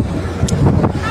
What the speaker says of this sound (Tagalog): Na, sobrang lakas ng hangin,